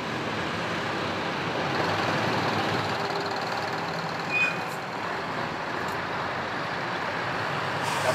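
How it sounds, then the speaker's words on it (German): A long queue of trucks waits at a truck stop car park near a motorway, giving a steady distant engine drone with a faint beep and a brief hiss of air brakes. "Die Lkw-Schlange reicht inzwischen bis zur Autobahn."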